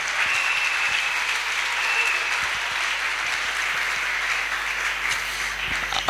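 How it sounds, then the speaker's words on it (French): A church congregation breaks into loud, sustained applause praising the Lord, dense clapping filling the room for several seconds, with cheering voices blended faintly into the crowd noise. "Merci, acclamez très fort le Seigneur."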